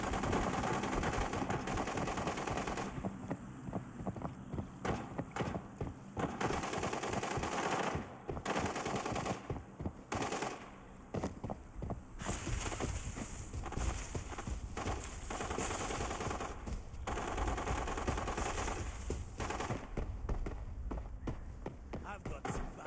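Dense bursts of automatic gunfire in the mobile shooter Arena Breakout, near and loud, rattling almost continuously with short gaps, while voices call out over the shooting.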